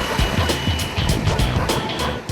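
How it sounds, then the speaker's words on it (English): A 2011 Honda CBR250R motorcycle's engine revving hard past 4000 RPM, a close, steady buzzing drone with quick pulses of throttle. "Snap the throttle open, let the revs cross the 4000 RPM mark and see how the CBR just"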